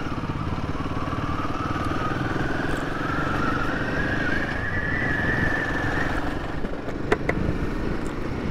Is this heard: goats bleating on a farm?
no